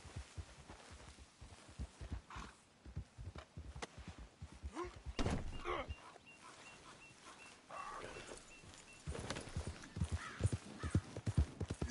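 Horse hooves clip-clopping in Red Dead Redemption 2, a rhythmic run of low thuds that shifts pace and swells louder in places, fairly close and without speech.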